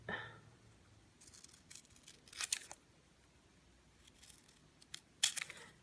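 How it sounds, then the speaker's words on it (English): A few short snips of scissors cutting paper for a tea light gift box, separated by quiet pauses, close and fairly soft. "And then I just take my scissors"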